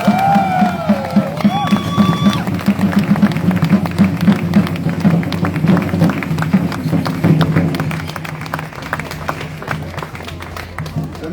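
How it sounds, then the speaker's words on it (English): A crowd at an outdoor Free Palestine rally in Melbourne claps and cheers in a steady, dense round of applause that runs for several seconds before thinning slightly, with a brief whistle near the start. "Another big round of applause for Uncle Gary."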